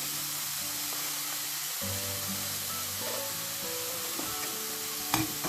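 A spoon stirring bourek filling with parsley in a pan, a soft scraping and shuffling over a steady frying sizzle, close and fairly quiet, with a brief sharper clack near the end and no talk.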